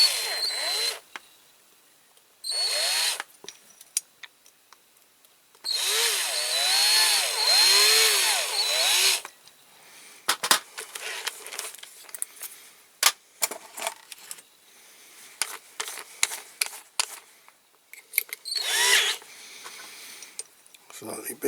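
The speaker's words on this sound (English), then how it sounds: "Okay, just drill a little bit out of this." A small power drill works on the metal wheel of a Corgi die-cast Massey Ferguson 65 model tractor, whining in a few short bursts, with clicks, taps and handling noises between them.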